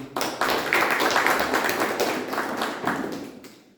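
Members of a Toastmasters club audience clap together in a dense, steady round of applause at close range, fading toward the end.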